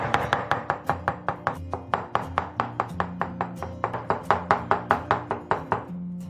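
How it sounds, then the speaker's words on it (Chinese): Chinese yam being crushed and diced on a cutting board with a knife, a steady run of about two dozen sharp, close chops at an even quick rhythm, with no talk over it. "然后把山药给它拍碎，然后切成丁儿"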